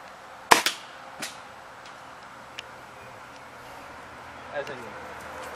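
A Phantom pellet gun fires one sharp snapping shot up close, followed by a few faint ticks and light knocks against a quiet outdoor background.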